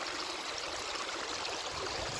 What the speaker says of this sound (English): this is the spillway that I was showing you before. And you can see it and you can hear it.